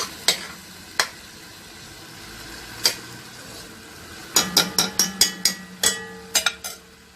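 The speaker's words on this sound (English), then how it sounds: "now you're gonna leave it in here to fry up with the onion and everything" Curry paste fries with onion in a pot, a soft sizzle running underneath while a spoon scrapes and clinks against the metal, first in a few isolated knocks and then in a quick run of stirring taps, with no talk.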